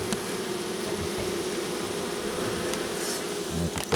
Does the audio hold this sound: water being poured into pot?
no